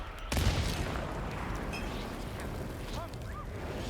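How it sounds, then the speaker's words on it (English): A cannon fires in the Hitman video game on the Isle of Sgail, one sudden loud boom that rolls into a long rumbling roar and hiss, with a few faint high chirps afterward. "you can trigger the cannon by shooting at it"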